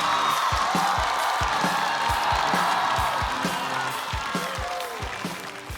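A stand-up comedy audience applauds and cheers to welcome a comedian, a broad wash of clapping carried over a regular thumping bass beat that fades slightly toward the end.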